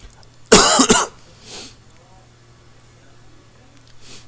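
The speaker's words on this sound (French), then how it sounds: "je suis bien malade donc j'arrête pas de tousser" A sick person coughs hard during a Farming Simulator 15 gaming session. One loud, close burst of two or three harsh coughs is followed by a fainter throat sound and then a soft final cough.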